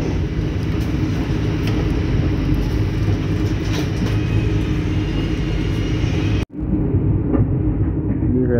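Inside the Mutiara Timur passenger train running on the rails between Sidoarjo and Bangil, a loud, steady rumble and rattle of wheels on track continues throughout, its tone dulling abruptly near the end as the carriage sound changes.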